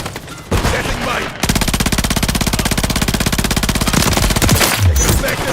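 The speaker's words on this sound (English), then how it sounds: "Taking effective fire!" Sustained automatic weapon fire in a video game battle, a long, steady, evenly pulsed burst lasting several seconds, loud and close, preceded by a brief noisy clash.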